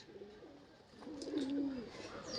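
A male golden pigeon coos in a low, rolling series, loud and close, with the calls swelling toward the end over faint background noise.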